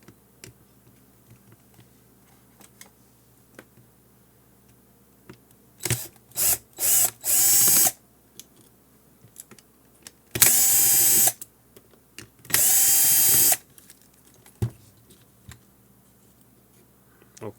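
A powered screwdriver backs screws out of a ClearCom V-Series intercom during a repair, whirring in three separate bursts, two short and close together, then two longer runs, with quiet handling between them.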